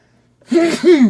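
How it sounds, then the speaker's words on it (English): A single close, abrupt sneeze bursts out after a moment of silence, with a sharp breathy onset and a trailing voiced tail. "Sorry for the sneeze."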